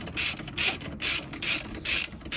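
A ratchet clicks in quick repeated strokes while tightening the starter motor bolts on a 2008–2015 Toyota Avensis T270 2.0 D4D, about five even bursts in a steady rhythm, close and clear with no talk.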